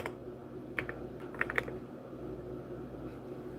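Computer keyboard keys click quietly in short irregular clusters, close and soft, over a low background hum.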